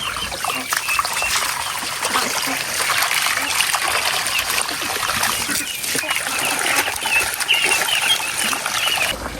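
Ducks splash and dabble in strong, fast-running fresh water on a converted farm plot, a steady broadband rush and trickle with scattered splashes throughout, close and fairly loud, with faint voices mixed in.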